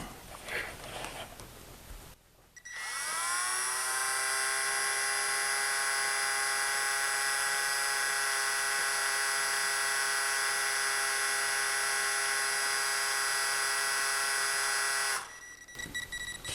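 A motorized toilet paper roll multiplier tool spins up with a sharp start into a steady, high electric whine that holds evenly for about thirteen seconds before cutting off abruptly. It is close and loud, with faint background noise before and after.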